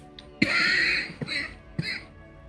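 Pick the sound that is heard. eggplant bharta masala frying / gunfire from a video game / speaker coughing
speaker coughing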